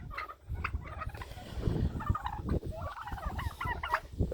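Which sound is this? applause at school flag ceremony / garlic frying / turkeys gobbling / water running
turkeys gobbling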